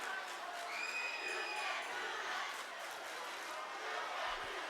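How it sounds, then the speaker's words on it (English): A student section crowd cheers and shouts at a high school basketball game, a steady, fairly loud roar of mixed voices with no clear breaks. "the Pack's cheering like crazy"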